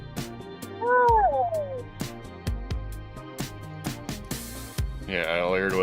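A cat meows with a rising, wavering cry early on, amid people talking and percussive knocks, with a later whining vocal burst near the end.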